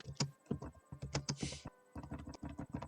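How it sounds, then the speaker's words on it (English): Quick bursts of keystrokes on a computer keyboard, close and fairly quiet, clacking in irregular runs with brief pauses between them. "I hear you typing."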